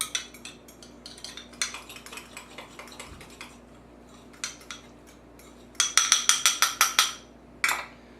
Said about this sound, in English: then I use a fork. We're going to mix it up.